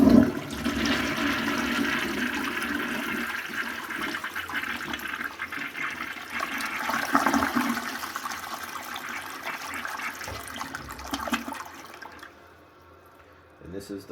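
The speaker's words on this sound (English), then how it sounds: "this is the first flush of this toilet on my channel" Flush of a 1931 Standard Madbrook toilet: a loud, close rushing surge of water that roars steadily for about twelve seconds, then drops to a quieter refilling trickle.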